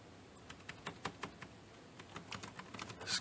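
Keys clack at a quiet, uneven pace on a BATTOP wireless Bluetooth keyboard, a string of light taps and a few short flurries heard up close.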